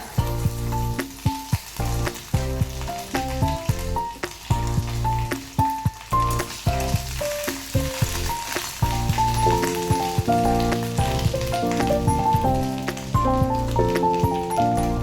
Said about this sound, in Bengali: এরপর দিয়ে দেবো গরম তেলের মধ্যে একটু আদা বাটা